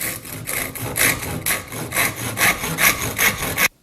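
A hand saw cuts through the top of a wooden axe handle in quick, even back-and-forth strokes, about eight per second, loud and close, stopping abruptly at the end.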